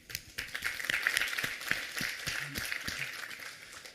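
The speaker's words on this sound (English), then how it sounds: "I want to give you guys a hand of applause for coming to this event" An event audience claps for attendees, a short round of scattered, moderately quiet hand clapping that swells and then thins out, with faint voices underneath.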